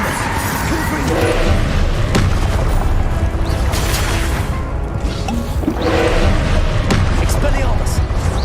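Confringo blasting spell going off in Hogwarts Legacy, booming, whooshing bursts around 2, 4 and 6–7 seconds over dense, continuous battle noise, with no speech heard.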